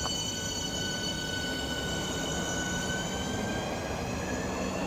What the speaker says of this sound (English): And now departing with 465-172 and 465-175 with the aforementioned service to London Charing Street.